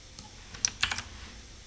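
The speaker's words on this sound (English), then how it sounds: "We'll type in my name" A few quick keystrokes on a computer keyboard, light close taps in a brief cluster over a quiet background.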